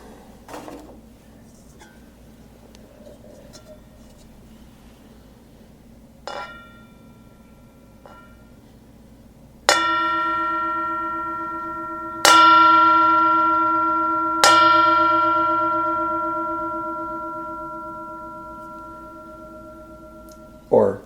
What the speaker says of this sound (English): I'll do the bell one more time.